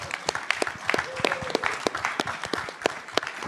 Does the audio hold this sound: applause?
yes